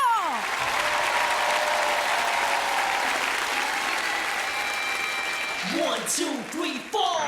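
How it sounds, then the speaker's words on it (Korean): Loud audience applause and cheering fill the hall at the opening of a New Year's special televised national singing contest, sustained throughout before a voice and music enter near the end. "여러분들 큰 박수 함성 부탁드리도록 하겠습니다."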